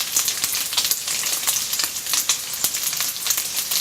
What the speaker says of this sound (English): So use a small fire to slowly brown the lard.